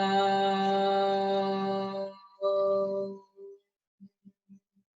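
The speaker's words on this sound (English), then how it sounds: "So this is the sound of Om" A single voice sustains a long, steady chanted Om in a low register during a chakra practice session, holding the tone for about two seconds before a brief break and a shorter second phrase. A few faint soft taps follow in near silence.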